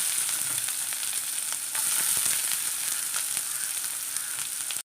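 Onion and broken dried red chilies frying in a pan with mustard seeds and urad dal for a Kerala thoran, a steady close hiss of sizzling oil with small crackles throughout.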